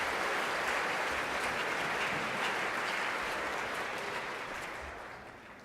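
A banquet crowd at a high school all-sports banquet claps for the event's sponsors, a dense, steady roar of applause that holds for several seconds and then gradually fades toward the end.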